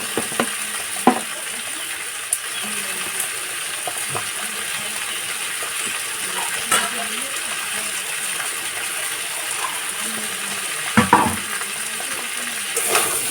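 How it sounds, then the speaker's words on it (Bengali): Salted chunks of giant taro frying in a pan, heard as a steady, even sizzle with occasional faint scrapes and clinks of stirring, alone without voices. "ভেজে ভালো করে নাড়াচাড়া দিয়ে নিচ্ছি"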